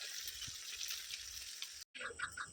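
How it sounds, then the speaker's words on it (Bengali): Chicken pakoras frying in hot oil, a soft steady sizzle heard close but faint, briefly cut off near the end before the crackle resumes, with no talk. "এখন পকোড়াগুলো ভাজা হচ্ছে, তেল গরম হয়ে গেছে, এবার পকোড়াগুলো দিচ্ছি।"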